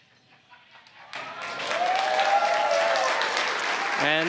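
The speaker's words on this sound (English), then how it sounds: "hear the cheering behind me" Crowd cheering and applause at a SpaceX Falcon 9 first-stage landing during the CRS-27 resupply mission, beginning faintly and swelling into sustained, loud cheering, with a rising whoop near the end.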